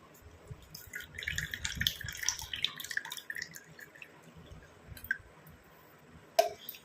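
Herbal juice drips and trickles through a filter while being strained for a face application, small irregular drops and splashes close by, with a sharper drip near the end.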